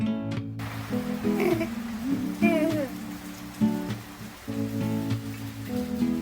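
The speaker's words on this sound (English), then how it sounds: "waiting for the rain to pass" Rain falls steadily outside the Mamma Mia hostel on the Appalachian Trail, a soft continuous patter in the background beneath sustained tonal sounds and brief voices.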